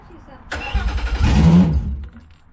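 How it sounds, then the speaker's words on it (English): A Mercury 300 outboard engine cranks and catches, its rumble rising quickly to a steady, loud run for about a second before easing off, close by with no talk over it. "Okay, the engine starts fine."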